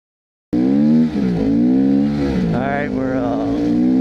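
A 2021 GPX Moto FSE 450R motorcycle engine starts up abruptly and revs, its harmonic drone rising and dipping with throttle changes as the bike rides on, close and loud.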